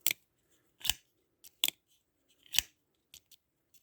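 A Benchmade Bugout 535 folding knife snaps open and shut several times, each a sharp, crisp, close metallic click with quiet gaps between.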